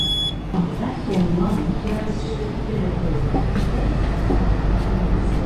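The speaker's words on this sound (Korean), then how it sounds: "호주 지하철은 이렇게 위에 하고 2층 이렇게 되어 있는데" A Sydney double-decker train rolls along the rails, a steady rumbling clatter with faint rhythmic clicks and brief squeaks, heard from inside a carriage while a person talks.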